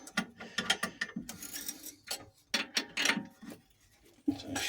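Ratcheting wrench tightening nuts on an engine mount during engine alignment: bursts of rapid mechanical clicks come in quick runs, close and fairly loud, with brief pauses between strokes.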